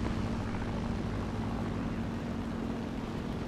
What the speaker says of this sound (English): Oh, there's a plane on me?